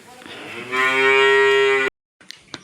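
A cow gives one long, loud, steady moo at feeding time in a village farmyard. It breaks off abruptly, leaving near silence with a few faint knocks.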